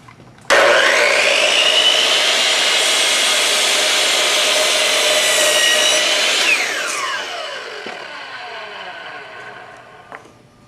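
Hitachi C10FCH2 miter saw starts abruptly and cuts through wood with a loud, steady high-pitched whine, then spins down gradually over the last few seconds with no talking.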